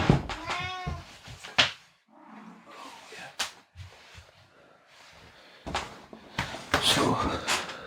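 A 15-year-old cat meows several times indoors, short sharp calls scattered among handling noises and bumps, with a person talking nearby in between.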